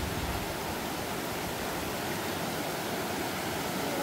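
A river swollen by flooding rushes past in a steady broadband roar, close and continuous with no breaks and no voices.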